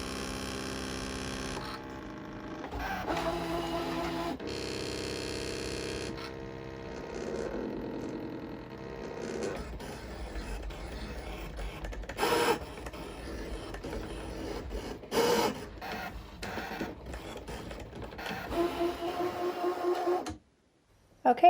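A cutting machine works steadily through a gift tag sticker sheet, giving a continuous mechanical whir with rhythmic motor passes and occasional louder clicks, moderately close, with no talking.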